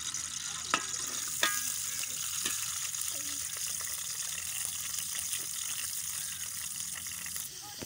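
Onions tipped into a pot for biryani cooked outdoors in a field, frying with a low continuous sizzle, a few sharp clinks of a utensil near the start, and faint voices in the background.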